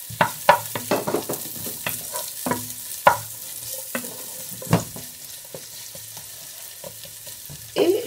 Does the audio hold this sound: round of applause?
no